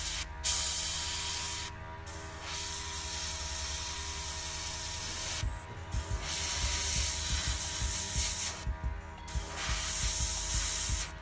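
Short bursts of an airbrush spraying paint for model weathering hiss on and off, with brief pauses between passes and a faint mechanical clicking, close and alone.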